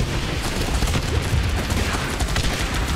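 Gunfire from rocket soldiers in the video game Guns Up!, a dense, continuous barrage of overlapping shots and low booms, loud and busy throughout with no speech.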